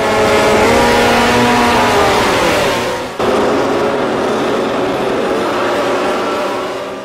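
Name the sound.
Valentino Rossi's racing motorcycle revving at race start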